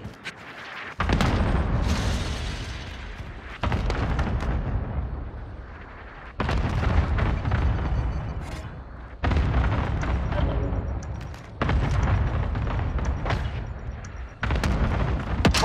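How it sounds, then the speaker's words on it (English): Repeated heavy blasts from a cluster strike in Call of Duty: Modern Warfare, arriving as five or six loud booming bursts a few seconds apart, each with a rumbling tail, with no talk. "Cluster strike away."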